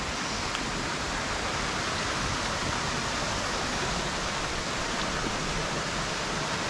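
A jungle waterfall in Rayong, Thailand pours into a pool with a dense, constant roar of rushing water, loud and unbroken throughout, no talk.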